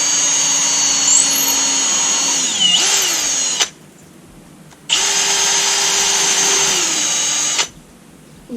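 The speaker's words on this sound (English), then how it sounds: "drill in some pilot holes" Power drill boring pilot holes, likely into reclaimed wood for an upcycling build: two long, steady, loud high-pitched whirring runs, each ending with a falling pitch as the trigger eases, separated by a short pause.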